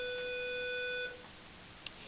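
A steady electronic bell tone rings for about a second then stops, followed by a faint click, in a quiet room.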